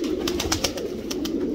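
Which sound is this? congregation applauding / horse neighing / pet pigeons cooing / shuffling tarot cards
pet pigeons cooing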